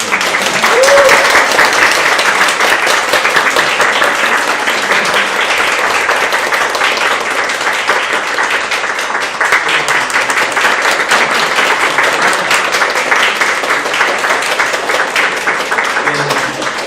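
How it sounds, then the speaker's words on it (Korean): A large academic conference audience applauds loudly and continuously through a presentation ceremony at an education society meeting, a thick sustained roar of clapping with faint voices mixed in. "전달할 때 박수 크게 한번 부탁드립니다."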